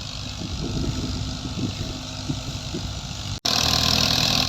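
A threshing machine driven by a New Holland 480 tractor runs with a steady mechanical drone and rumble, which cuts out briefly before returning louder and brighter.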